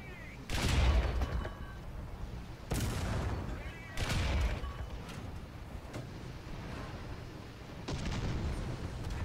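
Repeated booming tank cannon shots in the War Thunder video game, several heavy blasts spaced a second or two apart over constant rumbling battle noise, loud and close.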